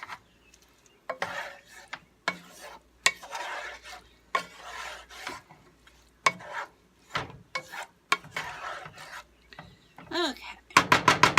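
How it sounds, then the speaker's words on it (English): Goulash is stirred in a cooking pan at home, a series of short scraping, rasping strokes in separate bursts with pauses between, close and fairly quiet, ending in a quick run of sharper taps. "I'm just going to do a little mixeroo"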